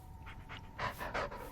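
A dog panting in the Blair Witch video game, quick breathy huffs repeating in a steady rhythm, close and fairly soft, growing a little louder toward the end.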